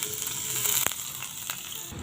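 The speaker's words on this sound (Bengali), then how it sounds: "পরিমাণ মতো তেল দিয়ে নিচ্ছি। কুচানো পেঁয়াজ দিয়ে নিচ্ছি।" Chopped onion sizzles in hot oil in a pan, a steady close crackle with a few sharp pops and stirring scrapes.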